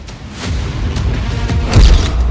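A heavy explosion blast in a war zone rumbles over steady broadband noise, with a loud deep thud breaking through near the end, and no voices.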